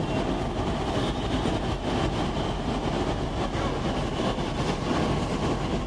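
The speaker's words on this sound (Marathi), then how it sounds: "ही आली आपली मेट्रो." A metro train rumbles into a busy station at its first stop in Pune, a loud, dense roar of wheels and motors filling the station throughout, with no talking.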